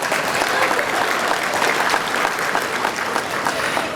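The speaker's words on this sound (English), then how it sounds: "That's a good place to clap." A large audience at a scholarship jazz brunch claps in a thick, steady wash of applause, loud and sustained, with no talking over it.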